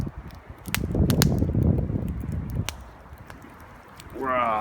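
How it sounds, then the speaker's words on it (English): A campfire burns in woodland at the first camp of the year, crackling with sharp scattered pops over a low rushing roar; a brief tonal voice-like sound rises near the end. "Wow, that is some fire now."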